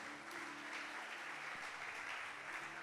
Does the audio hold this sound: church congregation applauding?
yes